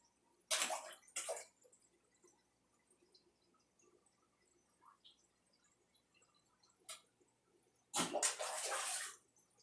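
Red devil fish feeding on krill strike the water surface in a few sharp splashes, two early, a single one midway and a longer burst of splashing near the end, with quiet dripping between.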